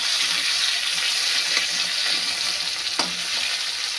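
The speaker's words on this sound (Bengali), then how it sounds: "টমেটোটা দিয়ে একটু নেড়ে নেবো। টমেটোটা নেড়ে নেবো" Chopped tomato is stirred through hot oil in a pan for chicken biryani, giving a steady, close sizzle with a few soft spoon scrapes, and no talking.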